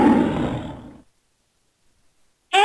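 A lion's roar from a children's alphabet cartoon bursts out loud and rough, then fades away within a second into silence before another sound cuts in at the end.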